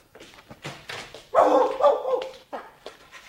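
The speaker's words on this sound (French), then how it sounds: "C'est mon chien!" A dog in a French stage comedy barks and yips several times in quick, uneven bursts, close and fairly loud, with a louder sustained bark in the middle and no talk over it.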